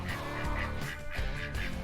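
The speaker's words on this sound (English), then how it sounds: "They even have a duck in here." A duck quacking repeatedly in a large chicken yard on an acreage property in Grangeville, Idaho, a series of nasal calls at moderate distance over a continuous low background hum, with no talk.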